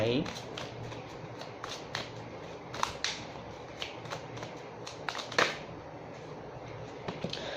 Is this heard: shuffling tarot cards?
yes